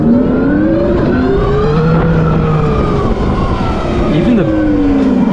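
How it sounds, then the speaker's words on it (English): A Tarform electric motorcycle rides and brakes, its drive giving off gliding, pitch-shifting electric whines and tones that rise and fall over steady road rush, loud and close throughout. "Even the brakes have this like electrical sound that's kind of satisfying."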